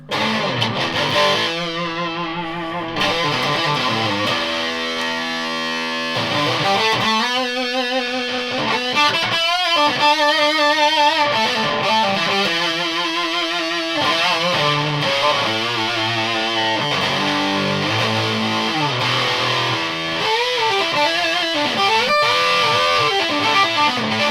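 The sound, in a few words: electric guitar through fuzz pedal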